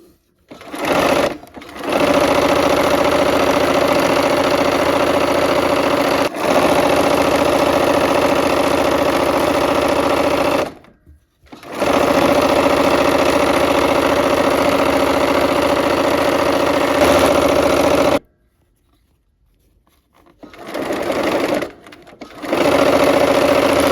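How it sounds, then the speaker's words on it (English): A sewing machine stitching cream-topped quilt sections together: loud close bursts of fast steady whirring, several seconds each, separated by short silent pauses. "I'm gonna go ahead and sew them with this kind of cream section on the top."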